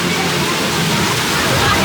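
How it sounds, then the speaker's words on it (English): Rushing water from a waterfall below a rope bridge at Europa Park theme park, a steady broadband roar close by that fills the short clip without pause. "Rope bridge, looking down at the waterfall."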